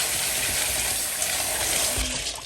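Dried peas for Jamaican oxtail stew peas are rinsed under steady running tap water, giving a continuous close hiss and splash with faint clinks, no talk.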